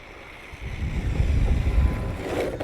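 An RC rock crawler car built for speed with a non-stock gearbox makes a fast run near 35 mph, its rumbling whir swelling loudly then easing off amid wind noise.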